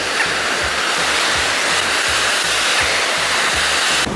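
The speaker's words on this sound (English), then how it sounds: "there's tons of surf" Heavy ocean surf at the beach, a loud, constant roar of breaking waves and rushing water, close and dense, with no voices.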